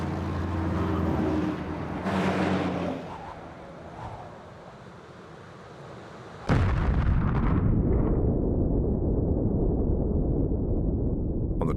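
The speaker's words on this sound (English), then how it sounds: "the Soviets also explode an H-bomb" Archival H-bomb test explosion: a deep rumbling roar that fades, then a sudden loud blast at about six and a half seconds, followed by a sustained heavy low rumble like surging wind.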